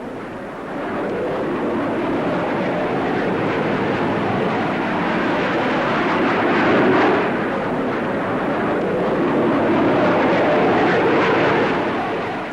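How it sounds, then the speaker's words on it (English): A Hawker Hunter F4 jet passes over the Farnborough air show with a loud, sustained roar that swells slightly toward the middle and end. "Finally, to round off this great show, the Hawker Hunter."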